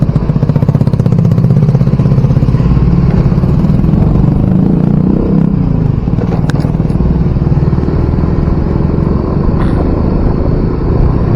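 Aid vehicles pass by on a road in a village hit by a flash flood, producing a loud, steady engine rumble with motorcycle-like clatter that continues throughout.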